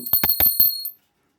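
A small bell is rung by hand during a Hindu ritual for the appearance day of the Ganga, with about five quick, bright metallic strikes over a second before the sound stops.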